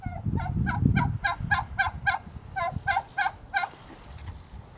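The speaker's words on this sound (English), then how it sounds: "Slowly back away from the turkeys." Turkeys gobble repeatedly nearby in Ruckle Provincial Park on Salt Spring Island, British Columbia, bursts of rapid warbling calls following one another in quick succession, with some rustling underneath.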